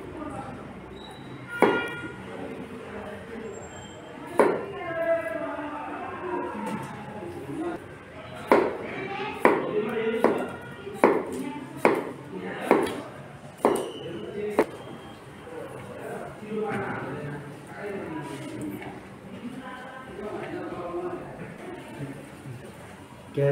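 A knife chops cucumber for salad in a kitchen, giving a series of sharp taps on a board, some in quick runs, heard close under a man's ongoing speech.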